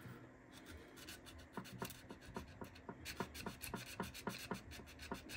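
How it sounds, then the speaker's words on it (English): Sanding clear coat off a model part: soft, close rasping strokes in a steady rhythm, about a dozen quick rubs that grow slightly louder toward the end, with no talk. "I guess I better sand this down just a little bit"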